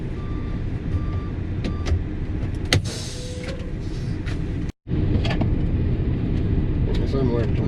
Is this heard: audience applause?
no